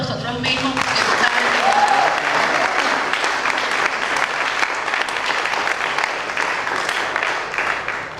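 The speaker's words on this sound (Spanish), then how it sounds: "Vamos a darnos un aplauso a nosotros mismos." A church congregation gives itself a round of applause, sustained loud clapping from a crowd in the sanctuary, steady for the full eight seconds, with voices mixed in.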